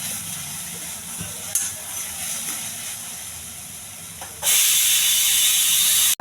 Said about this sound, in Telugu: తాలింపు మాడిపోకుండా ఎదుర్చాలండి